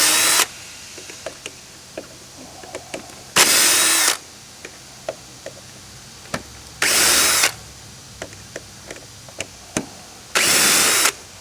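A power drill backs screws out of a conveyor belt module in three loud whirring bursts of under a second each, separated by quieter clicks and handling sounds.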